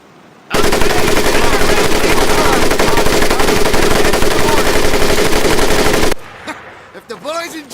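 A weapon fires in Medal of Honor, a loud, unbroken automatic burst lasting several seconds with a steady rapid rhythm, stopping abruptly and followed by faint lingering sounds and brief quiet voices.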